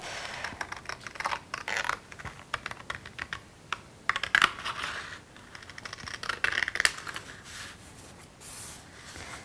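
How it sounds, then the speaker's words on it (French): Scissors snipping out a paper pirate's hat in quick, close bursts of crisp cuts, with brief pauses and rustling paper between. "je continue à découper mon pirate. Donc là, je fais son chapeau"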